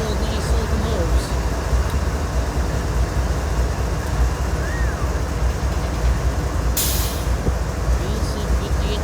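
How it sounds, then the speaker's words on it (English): Two BNSF locomotives sit idling near the tracks in Sioux Falls, South Dakota, their diesel engines giving a loud, steady low rumble throughout, with a brief hiss of air near the end. "Got a couple of nice locomotives."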